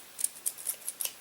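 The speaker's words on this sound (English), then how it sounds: "I'm going to cut off the large amount of excess yarn." Scissors snipping through excess yarn on an arm-knitting project, five or six quiet, crisp snips at an even pace, close up with no voices.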